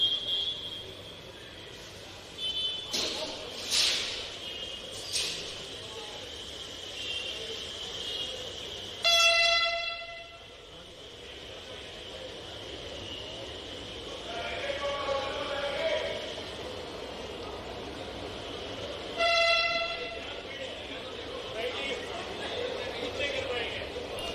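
A Bhopal Metro train rolls out on its inaugural departure, a low rumble building under crowd noise and a reporter's talk, with two short horn toots about ten seconds apart.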